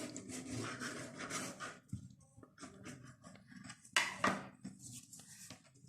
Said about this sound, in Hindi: एक एक पट्टी उठाएंगे और इसको दरमियान से पहले हम 2 हिस्सों में बराबर काट लेंगे।